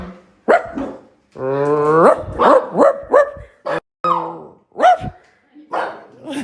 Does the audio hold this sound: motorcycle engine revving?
no